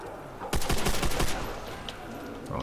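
A rapid burst of close, loud gunfire from a Call of Duty zombies map, Nacht der Untoten, a string of sharp shots lasting under a second, then quieter game ambience.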